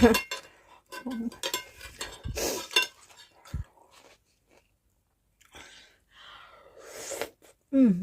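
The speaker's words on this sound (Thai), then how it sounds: "ไอแบบจามนะ" A sharp, sneeze-like cough bursts out once at close range during a meal of tom kha chicken with oyster mushrooms. It stands out among chewing, clinking dishes and a person talking.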